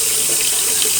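Tap water runs steadily and loudly into a bucket, a close, continuous splashing hiss with no pauses or talk.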